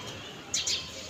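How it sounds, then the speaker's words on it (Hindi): Pigeons on an open rooftop among tall houses at dusk, giving two short bright bursts of wing flapping or calls in close succession over a quiet, steady background. "कबूतर उड़ते हैं"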